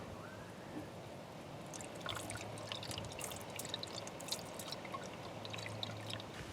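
Coolant pours from a funnel into the reservoir of a 2007 Toyota Sienna during a water pump replacement, a soft steady trickle and patter of liquid running for several seconds, fairly faint and close.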